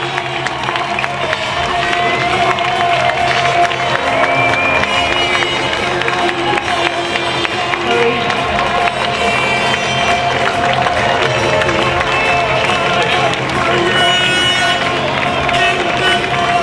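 An audience applauds and cheers loudly and continuously at the presentation of the Emirates Team New Zealand sailing crew at the America's Cup in Valencia, with crowd noise and some voices throughout.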